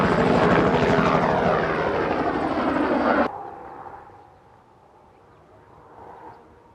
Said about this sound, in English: Project Heaviside is Kitty Hawk's latest electric VTOL vehicle.